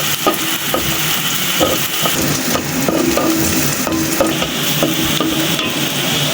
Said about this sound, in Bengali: এখন পেঁয়াজ আর রসুনগুলা সুন্দর করে একদম ভাজা ভাজা করে নিতে হবে